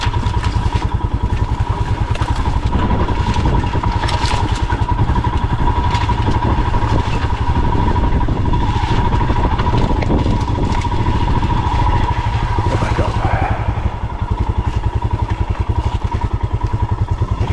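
A Royal Enfield Himalayan 411 ridden on a muddy trail with river crossings and ruts, its single-cylinder engine thumping steadily and loudly throughout, with occasional clatter and bumps over rough ground.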